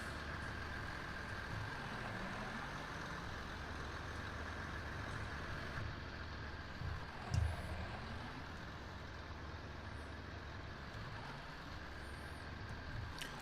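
A John Deere tractor engine in Farming Simulator 19 drones steadily at idle, a continuous low diesel rumble with a brief thump midway, moderately loud and unbroken.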